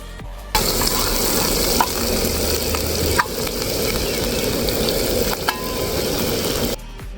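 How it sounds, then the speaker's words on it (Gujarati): Chopped onions for gravy sizzle in a hot pan, a loud continuous frying hiss with a few faint clicks of stirring. "પહેલા આપણે ડુંગળી અંદર નાખી દેવું."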